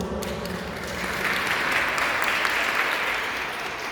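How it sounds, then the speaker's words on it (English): A round of applause fills a press conference hall for Domestic Violence Awareness Month inside a veterans memorial building, a dense steady clapping from a crowd lasting several seconds, swelling slightly in the middle. "can we please give them a round of applause?"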